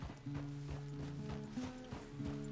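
Horse hooves in Red Dead Redemption 2, a steady clip-clop of a ridden horse moving at a walk, even rhythmic beats with a low musical drone underneath.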